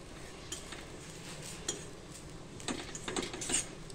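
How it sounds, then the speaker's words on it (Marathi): Grated coconut being dry-roasted in a pan, with soft scraping and light clinks of a spoon against the metal at a steady, unhurried pace, fairly quiet and close, no voices. "हे खोबरं मी आता चांगलं भाजून घेते"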